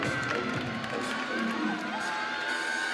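A home crowd at a college gymnastics meet cheers loudly and steadily, with high shouts and whoops from many voices filling the arena.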